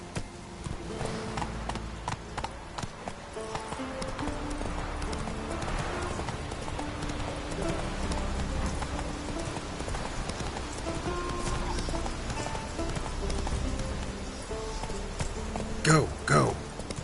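Hooves of the horse Roach pound in a steady galloping clip-clop throughout a video game ride, loud and continuous, with a brief whinny-like burst near the end and faint voices underneath.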